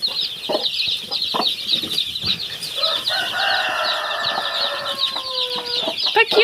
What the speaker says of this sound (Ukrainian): Ось мої курчатка.